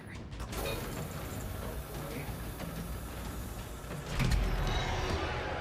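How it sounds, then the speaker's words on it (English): A heavy door in a video game grinds open with a mechanical creaking rumble, a broad sustained roar that swells into a louder surge near the end, with game music continuing underneath. "Why would they need such a heavy door down here?"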